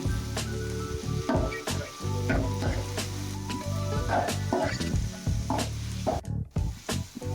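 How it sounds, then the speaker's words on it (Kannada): Tomatoes sizzle loudly in hot oil in a pan for upma, a dense continuous frying hiss broken by repeated stirring scrapes and ladle knocks, close up. "ಟೊಮೆಟೊ ಹಾಕ್ಕೊಂಡು ಚೆನ್ನಾಗಿ ತಿರುಗಿಸ್ಕೊಡಿ."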